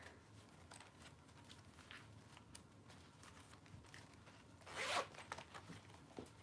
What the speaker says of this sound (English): and then your zipper